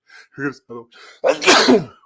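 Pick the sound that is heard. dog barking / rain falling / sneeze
sneeze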